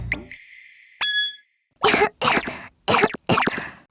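A few sharp coughs in quick succession, close and loud, after a short tonal blip and a pause.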